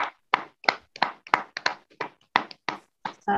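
A handful of people clap at an event while guests are welcomed onstage, sparse separate claps in an uneven rhythm, close and fairly loud with no voices.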